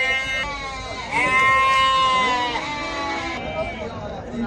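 Goats at the Maştağa livestock bazaar in Azerbaijan bleat in several wavering, drawn-out calls, close and fairly loud, with market voices mixed in around them.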